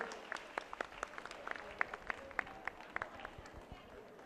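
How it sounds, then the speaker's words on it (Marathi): At a women's day church gathering in Vasai diocese, scattered hand claps follow a dance performance, faint and sparse, with sharp individual claps over a low crowd murmur. "पुन्हा एकदा जोरदार टाळ्या वाजवून त्यांना आपण दाद देऊया त्यांच्या या सादरीकरणाबद्दल"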